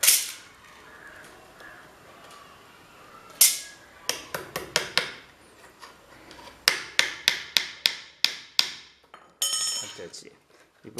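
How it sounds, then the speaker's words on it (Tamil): A hammer drives nails into a wooden screen printing frame in a series of sharp, ringing strikes, first scattered and then in quick rhythmic bursts, with quieter handling noise between them. "இப்போ இந்த பக்கத்தில் நல்லா இழுத்துட்டு இங்கே ஒரு ஆணி அடிச்சுக்கலாம்."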